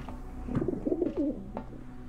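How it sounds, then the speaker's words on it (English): Pigeons in The Talos Principle give a short burst of warbling coos, a few rolling low notes close together in the middle, set against a quiet steady background drone. "Pigeons?"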